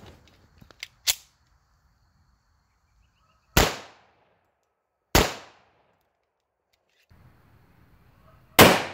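Four loud, sharp gunshots from a .45 ACP 5-inch 1911 pistol firing ball rounds into a Kevlar wall, spaced a few seconds apart with quiet gaps and a few faint clicks before the first shot.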